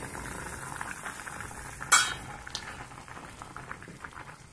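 Curry bubbling in a pot, a soft continuous simmer of small pops and gurgles with one sharper clink partway through, no talking.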